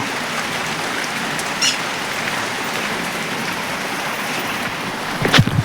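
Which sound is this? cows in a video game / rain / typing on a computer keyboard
rain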